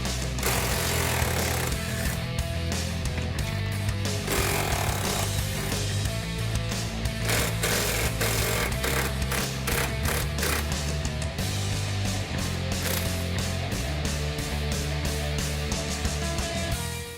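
Pneumatic impact wrench rattling strut tower nuts off a 2015-2023 Ford Mustang, a loud, continuous hammering buzz running steadily throughout with brief pulses near the end.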